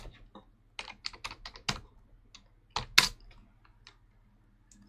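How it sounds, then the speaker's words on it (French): Someone types on a computer keyboard that was swapped for a quieter model, close by, in quick irregular runs of crisp keystrokes with a few louder key hits and short pauses, no voices. "j'ai changé de clavier pour qu'il fasse moins de bruit"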